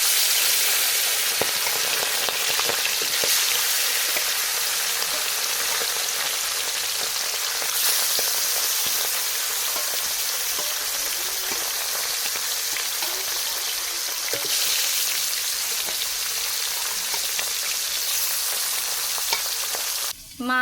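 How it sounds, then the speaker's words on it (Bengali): Fish frying in hot oil, a steady, dense sizzle crackling without pause for the whole stretch, close and fairly loud, with a few faint sharper pops scattered through it. "এখন আমি মাছটাকে ভাজা করে নিই।"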